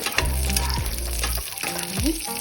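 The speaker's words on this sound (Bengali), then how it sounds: "কিশমিশ এর মধ্যে দিয়ে দিলাম একটু হালকা ফ্রাই করে" Raisins lightly frying in a pan give a steady, close sizzle and crackle over layered tonal background music.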